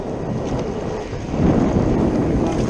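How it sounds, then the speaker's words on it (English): Loud wind buffeting the microphone while out flounder fishing, a steady rumbling roar that swells stronger midway and keeps gusting, no talking. "It's so windy and noisy in the first part of it."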